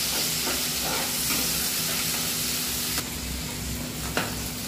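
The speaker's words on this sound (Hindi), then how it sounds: "इन सभी चीज को डालकर अच्छे से भून लेंगे।" Green chilies and onions fry in oil for veg chowmein, a dense, steady sizzle with faint stirring and two short sharp clicks toward the end.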